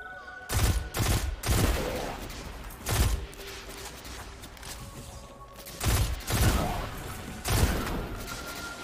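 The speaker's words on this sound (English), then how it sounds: "Is there somebody shooting at me from behind?" Rapid bursts of gunfire in the video game Destiny 2, clustered volleys and sustained automatic fire repeating loudly across the scene with brief lulls between.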